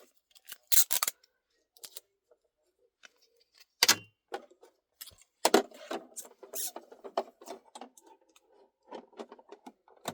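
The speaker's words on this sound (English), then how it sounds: "I just tape it down so it does not move." Strips of tape are pulled and torn in short, sharp rips and crinkles, with soft handling noises between them, while plaid fabric is taped down near a Brother SE1900 embroidery machine.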